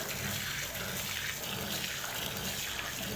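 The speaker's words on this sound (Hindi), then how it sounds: "मैं थोड़ा सा इसके ऊपर ठंडा पानी ऐड करूँगी।" Cold water pours steadily over cooked rice sitting in a sieve, a continuous even splashing rush that runs unbroken and fairly loud throughout, with no talking.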